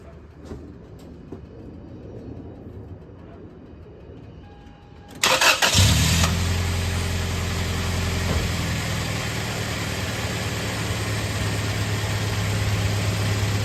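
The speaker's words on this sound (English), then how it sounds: "Cranking test, okay. Start engine." A 2.7L engine in a first-gen Toyota Tacoma cranks briefly, catches with a loud burst and settles into a steady, even idle that runs on alone.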